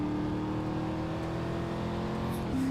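A car engine in a GTA roleplay game hums steadily and holds a constant pitch as the vehicle drives off, with a slight shift in tone near the end.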